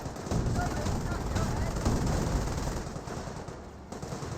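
MG carrier machine gun fire in the World War II strategy game Company of Heroes, a continuous rattle of automatic fire amid battle noise, with a commentator talking over it.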